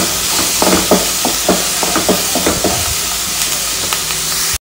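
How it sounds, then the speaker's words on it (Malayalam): Onions sautéing in a pan for samosa filling, a loud continuous sizzle broken by repeated scraping strokes of a spoon stirring against the pan, with no talk, ending abruptly. "ഇനി നല്ലോണം നമുക്ക് ഈ സബോള വഴറ്റി എടുക്കാം"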